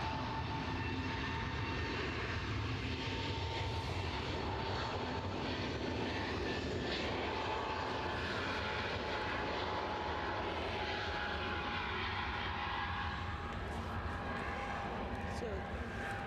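A Ryanair airliner takes off from Edinburgh Airport, its engines producing a loud, continuous roar that holds steady throughout while people talk nearby.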